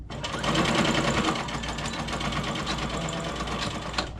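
A sewing machine stitching the seams of a fabric face mask runs steadily and close, with a fast, even mechanical chatter and a low motor hum throughout, no talking over it.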